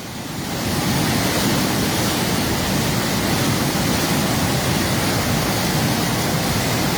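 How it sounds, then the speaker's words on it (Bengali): Floodwater rushes through a breached embankment of the Khowai river, a loud, constant roaring torrent that swells in within the first second and then holds steady, with no voices over it. "পানির কি শব্দ আপনারা শুনতে পাচ্ছেন"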